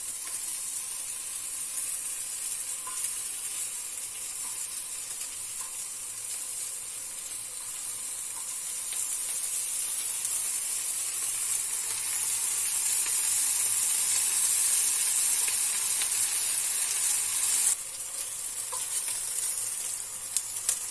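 Sucuk sausages fry in an oiled pan for an Izmir kumru sandwich, giving a steady, close sizzle and hiss that swells slightly midway, with a few faint clinks from the pan.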